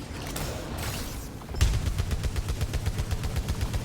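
Sustained automatic weapon fire in the Returnal video game as a gun is emptied, a rapid, even burst of shots starting abruptly after a brief lull and continuing loud and rhythmic to the end.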